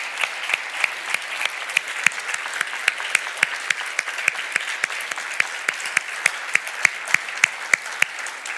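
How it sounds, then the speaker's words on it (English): A congregation at a memorial service celebrating the life of Rev Andy Carlson claps steadily and evenly, filling the room with sustained applause and no voices. "I think it would be very fitting if you would stand up and give him a round of applause"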